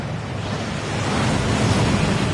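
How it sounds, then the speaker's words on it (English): Waterfall at Gringotts in a Harry Potter video game: a steady, loud, broadband rush of falling water that continues throughout with a slight swell, and no voices. "That waterfall washes away all enchantments."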